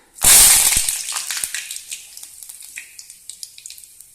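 Curry leaves and mustard seeds hit hot cooking oil for a spicy dry fish fry, bursting into a loud, sharp sizzle that fades into lighter crackling and popping. Nobody speaks.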